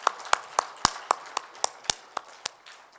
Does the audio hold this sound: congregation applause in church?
yes